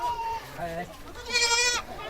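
A goat bleating in a Maithili village comedy skit, with several wavering nasal bleats, the last one high and strained, heard close over a person talking.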